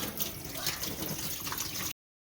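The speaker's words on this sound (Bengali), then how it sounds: "এখানে হচ্ছে বড় বড় সাইজের পার্শে মাছ ধোয়া।" Water runs steadily while large parshe fish are washed, a continuous close splashing and rushing flow that stops abruptly.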